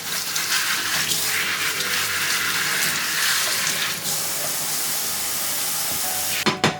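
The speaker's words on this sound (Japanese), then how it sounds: "さっと水で洗い流します" Tap water gushes and splashes steadily as husked corn on the cob is rinsed beneath it, then shuts off, followed by a couple of brief handling knocks.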